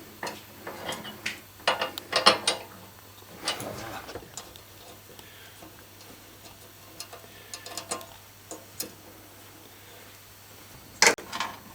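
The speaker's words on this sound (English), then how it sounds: "Removing these two screws now to take the hood frame off." Screws are worked loose by hand to free the hood frame of a Sunbeam Alpine Series IV GT, giving faint irregular clicks, taps and metallic ticks scattered quietly over the stretch, with a sharp knock near the end.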